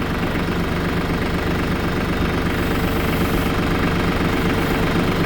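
A tractor engine runs steadily while its boom is raised, a loud, close, continuous low rumble with a rapid knocking pulse throughout.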